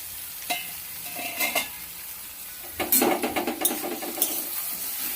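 Bata fish curry stirred in a pan with a spoon, giving intermittent scraping and clinking strokes over a soft sizzle, busier and louder near the end.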